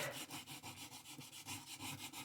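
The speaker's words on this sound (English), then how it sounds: "So just sanding it back just gives it a slightly different look." Sanding back an embossed paper card by hand: quick, even back-and-forth rubbing strokes repeated steadily, soft and close with no talking.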